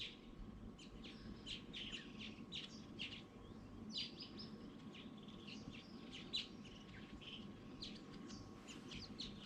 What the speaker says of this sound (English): But listen to the birds.